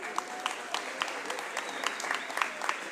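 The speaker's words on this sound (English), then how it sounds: "Give yourselves a round of applause" A community meeting audience at a mayor's cabinet-in-community gathering claps for itself, a dense, sustained round of applause with small louder bursts scattered through it.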